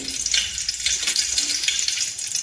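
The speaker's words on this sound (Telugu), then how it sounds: "అయిందండి దానిలో రెండు ఎండుమిరపకాయలు" Two dried red chillies frying in oil as tempering for a ridge gourd curry cooked with milk, giving a steady close crackling sizzle that holds at an even level throughout, with no voices.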